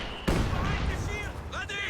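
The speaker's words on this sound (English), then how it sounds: "he could just get barraged to hell by these mortars" Mortar shells slam down in a World War II strategy game, one sharp heavy impact followed by a rumbling tail, with a voice talking over it and faint whistling sounds afterward.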